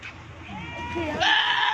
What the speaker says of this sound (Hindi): ये 15 नंबर पे बकरा जा रहा है।